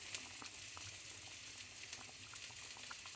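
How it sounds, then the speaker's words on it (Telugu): Fish and drumstick curry simmering in a pot over a low flame, giving a steady soft bubbling hiss with faint pops throughout, close by and with no voices. "సన్నటి సగం మీద ఉడకనిస్తున్నాము"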